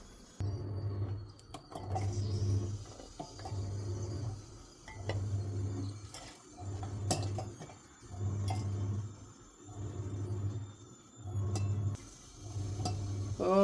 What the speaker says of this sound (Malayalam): വാഷിംഗ് മെഷീൻ്റെ ഇരവലാണ് നിങ്ങൾ കേൾക്കുന്നത് കേട്ടോ